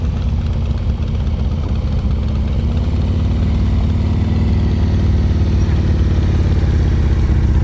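A motorcycle rolling at very slow speed during an advanced slow-riding practice session in North Carolina, its engine putting out a steady, loud low rumble that stays close and constant the whole time, with no voices.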